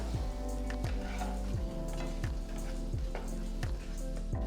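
Masala for bhindi do pyaza fries gently in a pan over a low flame, giving a continuous soft sizzle with repeated scraping strokes from stirring at a regular rhythm.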